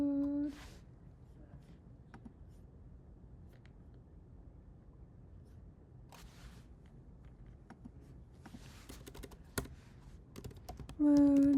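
Typing on a computer keyboard while coding a scene change in Unity, with scattered clicky keystrokes in short bursts, fairly close, and brief talk at the start and end.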